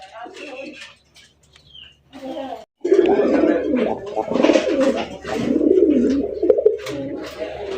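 Fancy racer pigeons, a pair with young, coo repeatedly at close range, soft throaty calls and chirps rising and falling over several seconds, with someone talking in between.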